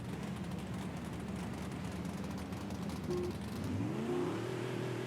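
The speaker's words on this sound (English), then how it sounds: "So here we go, revving up the engine." A race car engine revs up at the start of a three-lap Baja race around Canyon Lake, a steady mid-pitched drone that rises in pitch toward the end, fairly faint with no talking.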